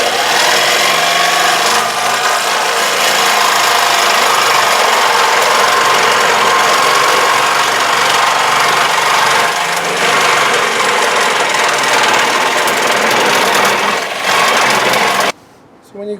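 A power tool cuts a hole in an aluminum piece for a ram air hood on a 1970 AMC Javelin/AMX, a loud steady whine running continuously up close before stopping abruptly near the end.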